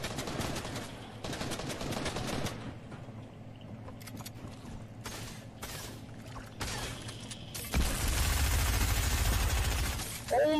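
Bursts of video game gunfire in Fortnite Chapter 2 Season 3, rapid automatic fire in choppy clusters with gaps between, ending in a louder, denser rumbling barrage near the close.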